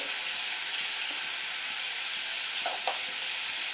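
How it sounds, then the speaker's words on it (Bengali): Ridge gourd coated in turmeric fries in oil with a steady, even sizzle throughout, and a couple of soft stirring scrapes come near the end. "হালকা যতটুকু জল বেরোবার আগে অব্দি একটু ভাজা ভাজা মতন করে দেব অল্প দু চার মিনিট"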